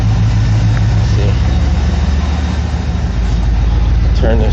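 A 1993 crew-cab dually pickup's engine idles with a loud, steady low rumble that runs throughout, with a brief voice near the end.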